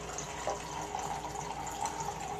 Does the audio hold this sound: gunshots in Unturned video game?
no